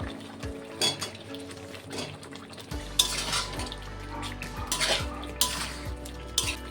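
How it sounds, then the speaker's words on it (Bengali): Clattering of a utensil against a pan as fried potatoes are tipped into cooking masala and stirred, with soft scraping and a few knocks, up close. "ভেজে রাখা আলুগুলো দিয়ে দেবো।"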